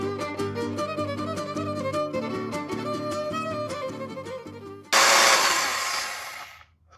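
An electric stand mixer beats coconut into a no-bake cherry ball mixture, a loud, steady whirring burst of about a second and a half that follows several seconds of music and then cuts off.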